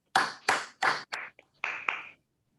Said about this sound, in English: Please give the speaker and Smita a huge round of applause